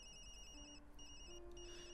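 A cell phone rings faintly in the Tokyo Dark video game, a soft repeating electronic ringtone pulsing in short bursts over a low background hum, with no talk.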